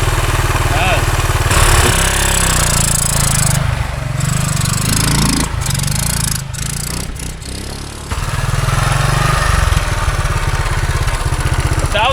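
A 50-year-old Honda enduro motorcycle engine runs loudly up close, a rough steady idle that dips and changes tone midway before settling back into its rattling drone.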